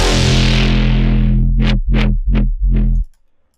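A loud, buzzing distorted synth growl sweeps down, then pulses in four rhythmic wobbles before cutting off abruptly.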